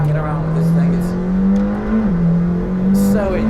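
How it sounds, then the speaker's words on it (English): McLaren Senna engine held at a loud, steady drone that rises and dips briefly mid-run as the gearbox snaps through shifts, close and continuous, with a voice talking over it. "I'm sure you can hear as well as just how razor sharp the gearbox is"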